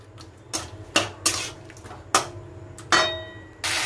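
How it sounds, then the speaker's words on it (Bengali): Spice paste with chopped tomatoes sautéed in a pan for a vegetarian Bengali chana dal with coconut: a series of sharp utensil scrapes and clanks against the pan, separated by short pauses, over a low background hum. "এবার কুচনো টমেটোগুলো দিয়ে এইবারে মশলাটাকে আমি ভালো করে কষবো যতক্ষণ না তেল বেরিয়ে আসে"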